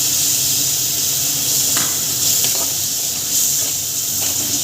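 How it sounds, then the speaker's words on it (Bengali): Chilli powder, green chillies and chopped coriander fry in hot oil in a pan for a Tangra fish curry, a loud constant hissing sizzle with a few faint stirring scrapes, no voices. "এটাকে আমি ভালো করে একটু ভাজা করব"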